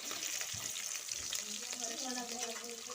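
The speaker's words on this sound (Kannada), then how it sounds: "ಈರುಳ್ಳಿ ಚೆನ್ನಾಗಿ ಫ್ರೈ ಮಾಡ್ಕೋಬೇಕು ಎಣ್ಣೆಲಿ" Onions frying in hot oil with mustard seeds give a steady close sizzle, with scattered crackles and a few soft stirring scrapes throughout.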